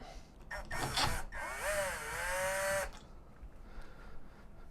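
A power driver whirs in short bursts and then a longer rising run, driving two screws into an interior keypad door knob lock, close and moderately loud with no talk.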